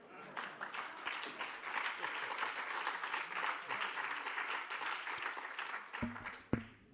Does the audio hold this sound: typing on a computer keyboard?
no